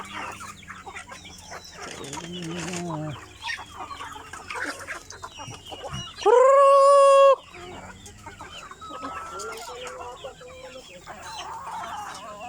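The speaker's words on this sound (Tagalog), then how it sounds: "ganyan karami yung manok dito" Chickens clucking and chattering nearby, with a loud rooster crow rising out of the flock midway, amid steady outdoor background noise.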